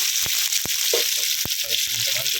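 Brazilian spinach stir-fry sizzles steadily in a hot pan, with intermittent scrapes and knocks of stirring over the continuous frying hiss.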